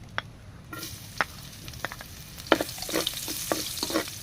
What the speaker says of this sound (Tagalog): Dito po sa pinagprituhan ng taba, dito rin po tayo magigisa